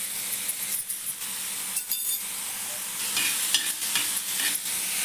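Tomato, coriander and ginger-garlic paste sizzling in an iron tawa, a continuous close hiss with scraping and stirring clinks, swelling slightly louder toward the end, no talking.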